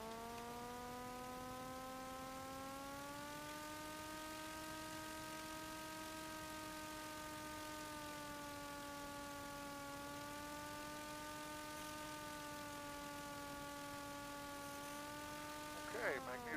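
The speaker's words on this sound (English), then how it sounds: "Let me run up my engine and check my magnetos." A small aircraft piston engine holds a steady droning hum during a run-up magneto check, its pitch rising slightly and then easing in small steps. It sounds faint and distant throughout, ending in a brief burst of noise.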